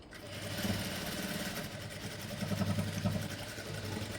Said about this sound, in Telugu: ఇది స్టిచ్ చేసేటప్పుడు కింది సైడ్ స్టిచ్ చేయండి కిందికి స్టిచ్ చేసుకోండి